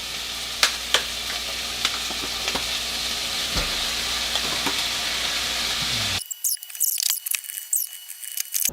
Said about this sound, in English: I'm gonna toss it into the pan. I got some oil in there. Toss in the diced celery.